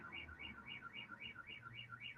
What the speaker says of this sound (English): Somebody alarm.